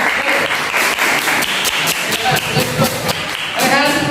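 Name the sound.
classroom applause, friends clapping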